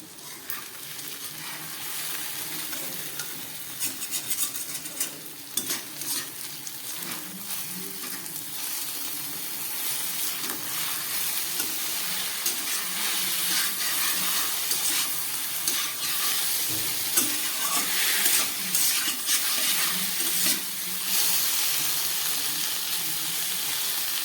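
Taro stolons with salt, cumin powder and green chillies cook in a wok, giving a steady, close frying sizzle with soft stirring scrapes that grows slightly louder partway through and carries on without talk.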